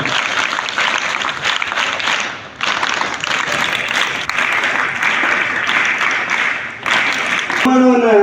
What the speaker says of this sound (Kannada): ಸ್ವಾಗತಿಸೋಣ ಎಲ್ಲರೂ ಚಪ್ಪಾಳೆಯ ಮೂಲಕ ಅವರನ್ನು ತುಂಬ ಹೃದಯದ ವೇದಿಕೆಗೆ ನಾವೆಲ್ಲ ಸ್ವಾಗತಿಸೋಣ